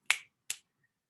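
Two crisp, close finger snaps about half a second apart, sharp and isolated against silence.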